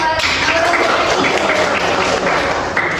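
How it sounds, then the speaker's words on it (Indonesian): Students in a classroom teaching-simulation session break into applause, a dense, steady patter of clapping lasting about three seconds, fairly close, with some voices mixed in. "Tepuk tangan dulu dong."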